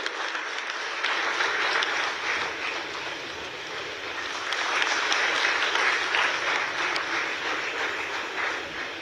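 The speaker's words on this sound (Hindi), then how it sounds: "जोरदार तालियों से स्वागत करें श्री शमशेर सिंह" Sustained applause from an audience welcoming an award recipient at a journalism honour ceremony, a steady dense patter of many hands filling the whole stretch, swelling slightly midway.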